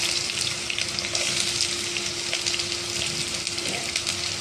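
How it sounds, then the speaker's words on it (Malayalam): Two sliced onions sauté in hot oil, producing a steady, dense sizzle that stays close and fairly loud throughout, with a faint hum underneath. "എണ്ണയൊക്കെ നല്ല ചൂടായിട്ടുണ്ട് ഇതിലേക്ക് നമുക്ക് ഒരു രണ്ട് സവോള അരിഞ്ഞതുണ്ട് ഇതിലേക്ക് വഴറ്റിയെടുക്കാം"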